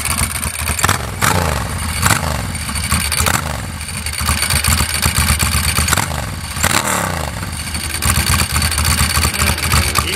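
A fully customised Ducati 900SS with a dry clutch and Brembo parts runs loud and close, its engine idling and revving with an uneven, throbbing rumble and the clatter of the dry clutch throughout.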